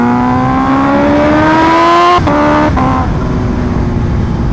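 A Kawasaki H2R motorcycle accelerates loudly and close, its engine whine rising steadily before a sharp gear change drops the pitch, then it pulls on again under wind rush.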